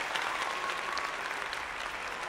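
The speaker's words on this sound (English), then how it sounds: "Hand clap for Dawn." Steady, dense hand clapping from a group, loud and continuous throughout with no pauses, during a relaxed card-making session.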